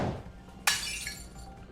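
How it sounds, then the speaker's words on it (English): A bowl smashes on the floor in a visual novel game: a sudden loud shattering crash with a long bright ringing tail of scattering shards, then another sharp impact at the very end. "he turned his blade and smashed the bowl to the floor"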